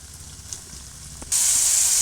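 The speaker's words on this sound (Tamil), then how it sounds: "இந்த கிறிஸ்பி சிக்கனை போட்டு பொரிச்சிக்கலாம்." Crispy chicken dropped into hot oil for deep-frying sets off a sudden loud, steady sizzle that bursts in after a quiet moment and carries on close and continuous to the end.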